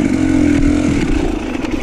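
Motorcycle engine at gentle, low throttle while riding through sticks on a trail, a loud, close, steady chugging drone with light clatter and slight rises in revs, and no voices.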